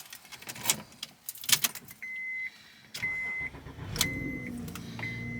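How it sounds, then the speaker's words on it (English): Engine of a 2006 Honda Odyssey cranking and catching after an ignition switch replacement, preceded by key jangles and short electronic chimes, then settling into a close, steady idle. "So here we're going to see if it'll start."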